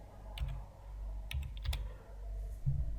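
A few short bursts of keystrokes on a computer keyboard while modelling rebar in Tekla Structures 2017, quiet clicks spaced over a few seconds against a low steady room hum.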